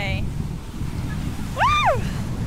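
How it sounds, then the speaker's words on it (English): Strong wind and surf at New Smyrna Beach, Florida, a steady low roar of gusting wind and breaking waves buffeting the microphone, with a brief voiced whoop rising over it. "Man, it is a feisty wind day."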